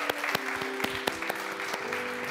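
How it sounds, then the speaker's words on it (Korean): A church congregation applauds during a Christmas Sunday worship service at a university ministry, giving steady, dense clapping with sharp individual claps standing out, loud and filling the room for the whole stretch. "우리 주님께 다시 한번 축하의 박수 드리도록 하겠습니다."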